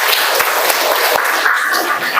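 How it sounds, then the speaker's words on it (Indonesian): A group of students in a madrasah classroom applauds together: loud, close, brisk clapping from many hands with a few sharper individual claps standing out, sustained through the whole short burst. "Tepuk tangan untuk kita semua."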